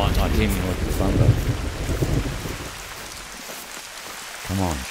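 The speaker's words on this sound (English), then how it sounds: "the line might not hear me with the thunder" Rain falling in a thunderstorm in the hunting game theHunter: Call of the Wild, with a low rumble of thunder fading away and someone speaking briefly over it at the start and end.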